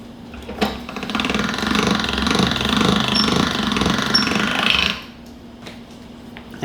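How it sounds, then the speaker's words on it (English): A pasta machine rolls lasagna dough with a loud, steady mechanical rattle and grind that lasts about four seconds and then stops, leaving a quiet hum. "a close-up footage of the pasta machine in action"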